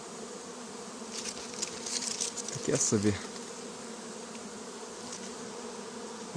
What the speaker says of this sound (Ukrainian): Ось така маса бджоли літає.